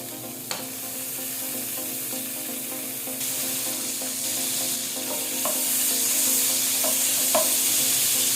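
Margarine melting in a hot frying pan gives a steady, close sizzle that builds gradually, with a few faint clinks of a utensil against the pan and no talking.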